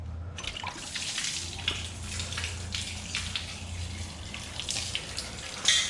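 Plain water, with no coolant in it, drains out of a Mustang's cooling system, a steady splashing and pouring that runs continuously throughout with a low hum underneath.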